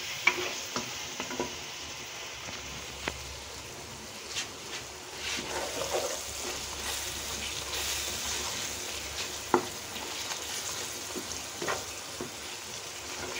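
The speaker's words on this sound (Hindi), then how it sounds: "अब इनकी मसालों की हम अच्छे से भुनाई करेंगे।" Spices for a potato and egg curry are fried and stirred in a pan: a continuous close sizzle broken by occasional sharp spoon clicks and scrapes against the metal.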